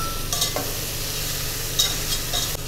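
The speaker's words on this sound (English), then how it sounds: "After sauteing the vegetables, I'm going to add the lamb back." Lamb and vegetables sautéing with garlic in a pot for Irish lamb stew, a soft continuous sizzle with a few sharp metallic stirring clinks, close and fairly quiet.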